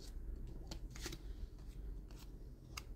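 Tarot cards being handled and shuffled for a reading, with a few soft papery flicks and slides standing out over a low, steady background rumble.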